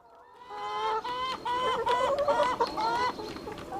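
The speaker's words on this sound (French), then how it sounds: "Anne et Stéphane y élèvent 400 poules pondeuses qui s'ébattent autour du poulailler" Laying hens cluck around a henhouse on a farm in a busy, close chorus of repeated clucks and squawks that overlap without pause.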